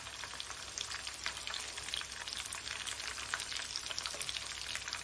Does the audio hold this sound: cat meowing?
no